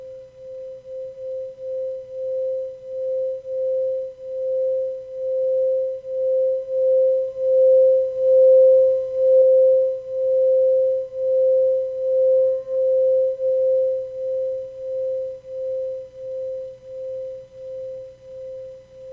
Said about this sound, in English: Yes, it's the singing bowl.